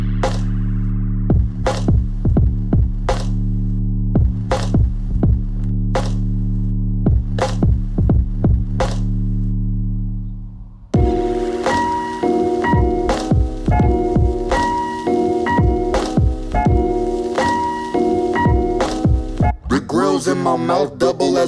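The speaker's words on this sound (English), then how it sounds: "right now I'm just doing some touch-up work with the clipper in the open position" An electric hair clipper buzzes steadily and close throughout a fade haircut, with a loud low hum, intermittent ticks as it moves through the hair, and a change in tone partway through.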